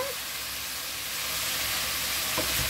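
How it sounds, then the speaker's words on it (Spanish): Pumpkin and vegetables sautéing in a pan for pumpkin soup, a steady soft sizzle and hiss with faint stirring scrapes near the end. "y vamos a saltear por 5 minutos que vaya cogiendo todos los sabores"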